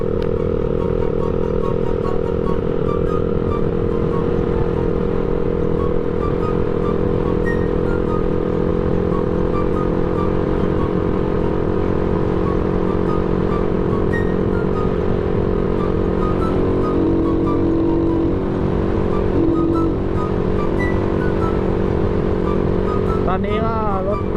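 A motorcycle fitted with a 53mm NK Racing kit rides along a dirt road, its engine droning continuously and loudly for the whole stretch with steady pitch and slight rattle.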